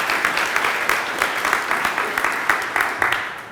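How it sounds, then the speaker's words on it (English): Attendees at a business networking breakfast give a round of applause for a sponsor, a steady patter of many hands clapping at close range with faint talk underneath. "I want to give one more big round of applause to Samantha here with Axis Spine and Pain."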